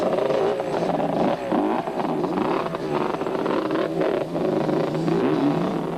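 Quad bikes racing in the 1998 Caledon 400 off-road race, their engines droning loudly and continuously with rising and falling revs, heard fairly close for the whole stretch.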